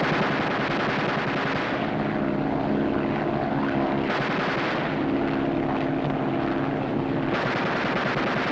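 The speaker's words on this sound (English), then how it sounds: "Fire 3 bursts each in rotation." Machine gun bursts fired from a World War II era aircraft, heard loud and continuous over a steady propeller engine drone, with the bursts rising and falling in repeated stretches.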